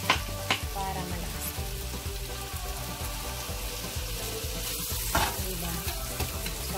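Meat for pansit fries loudly in a pan with a steady, dense sizzle, broken by occasional scraping stir strokes and light clatter, close up and continuous the whole time.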